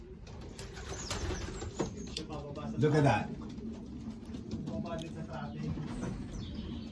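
Soft cooing and murmuring of young pigeons in an 8 by 6 loft fill the background, with someone speaking briefly over the birds.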